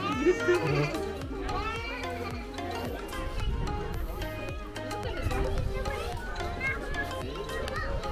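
Goats bleat several times amid a busy outdoor farm scene in Leeds, England, with people and children talking throughout.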